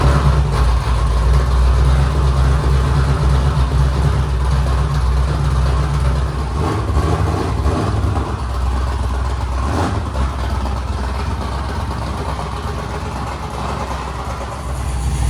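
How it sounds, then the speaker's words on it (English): A modified BMW E36 engine runs steadily at idle on a freezing day, a low rumble with a few brief revs rising and falling, close and continuous with no talking. "Some engine noises, pretty nice."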